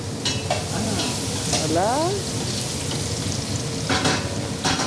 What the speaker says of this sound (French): on fait frire la patate douce